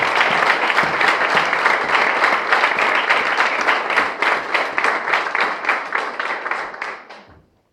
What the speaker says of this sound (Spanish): ¿Y cuántos le pueden dar un fuerte aplauso al Rey de Reyes?